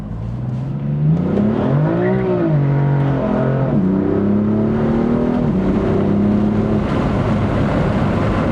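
A BMW M4 accelerates hard with traction control fully off, its engine note climbing and dipping through loud, sustained revs that dominate the whole stretch without any talk over it.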